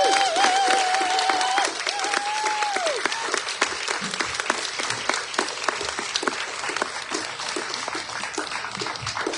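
A theatre audience at the Segal Centre season launch breaks into sustained, dense applause to welcome Lisa Rubin, a brief whistle cutting through the opening seconds before the clapping carries on steadily.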